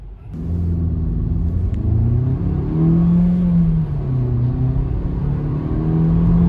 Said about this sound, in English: Let's try a bit of a launch when the lights run green.